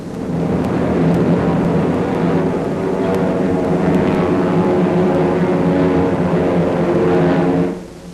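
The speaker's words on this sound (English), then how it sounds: "Coming in for a landing, one glider sideswipes another." Military gliders coming in to land in a 1944 newsreel, a loud continuous low roar and rumble of aircraft that holds steady before dropping off abruptly near the end.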